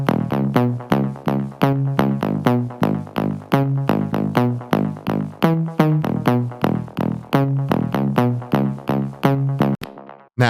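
Synth lead patch built in Serum or Diva plays a fast, rhythmic run of bright, plucky repeated notes with clear pitch steps, loud and dry, ending in a short gap, with no voices.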